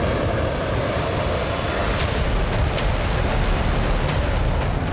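An F-35 fighter jet's engine roars loudly and continuously, a dense, rushing wall of noise that holds steady without letup.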